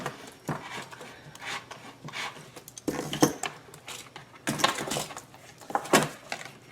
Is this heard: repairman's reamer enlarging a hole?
yes